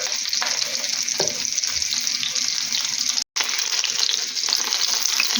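Chicken breast cutlets sizzle steadily in a hot pan over medium heat, a dense crackling hiss that continues without pause except for one brief cut.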